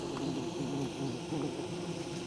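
Bees around hives kept for honey and for pollinating guarana plants, a constant low droning buzz that holds steady and close throughout, with no talk over it.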